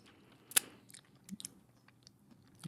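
Someone chews crunchy cookie butter up close, with one sharp crunch followed by scattered quieter bites and mouth clicks over a faint background hum.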